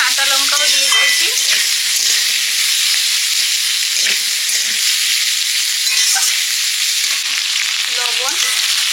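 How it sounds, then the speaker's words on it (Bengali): Onion and potato with green chilli fry together in a pan, a steady dense sizzle running throughout with occasional stirring scrapes, loud and close with no talk. "পেঁয়াজ আলু একসঙ্গে ভাজা ভাজা করে নেব।"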